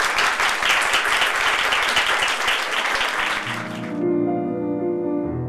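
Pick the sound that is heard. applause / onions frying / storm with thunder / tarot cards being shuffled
applause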